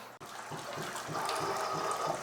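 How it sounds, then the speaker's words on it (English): Liquid from a homebrew mash drains steadily before sparging, a continuous close trickle and gurgle of flowing water with a faint low rhythmic pulse beneath it. "I'm going to let this drain and then we're going to start sparging."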